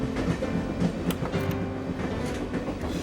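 A steam train runs on rails with a steady rumble and rhythmic clickety-clack of wheels over track joints, loud and continuous with no voices over it.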